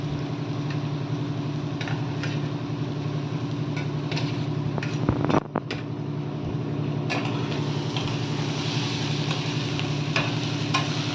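Onions with green chili fry in a pan for egg bhurji, making a continuous sizzle over a steady humming motor drone, with a few stirring clatters in the middle.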